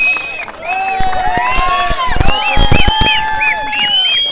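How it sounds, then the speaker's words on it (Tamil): A crowd claps and cheers for the team captains at a local cricket league presentation, giving a lively wash of applause with whoops, whistles and shouting voices close by. "ஒரு பலத்த கைத்தட்டல்கள்."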